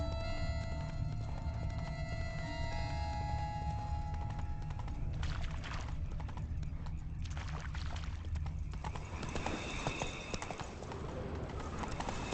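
Horse hooves clip-clop in a Witcher 3 game scene, the steady hoofbeats sitting over a low background hum with bird cooing and other ambient game sounds mixed in, and no voices.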